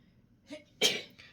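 A single person's sneeze, a short intake followed by one sharp, close burst and a faint trailing breath, alone in a quiet room.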